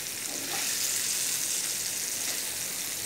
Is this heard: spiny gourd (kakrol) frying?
yes